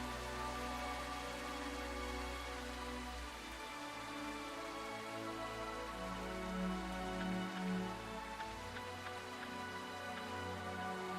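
Continuous rainfall ambience in the video game Helrift, a soft, even hiss of drops hitting surfaces, quiet and unchanging throughout, with a low hum beneath and no voices.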